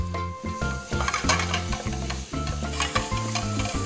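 Ground pork and dried shiitake mushrooms stir-frying in a pan with chili oil, a loud close sizzle with repeated scraping and stirring strokes of a utensil against the pan, no talking.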